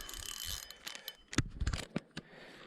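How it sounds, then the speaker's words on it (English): A fishing reel's drag being tightened while trout fishing at Loch Lomond, giving a series of small mechanical clicks and ratcheting ticks, quiet and close, under faint outdoor background noise. "Tighten my drag a little bit."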